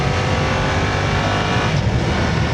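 A BMW F900R motorcycle engine while riding, a loud, steady engine roar mixed with wind, continuous throughout the short stretch with no talking.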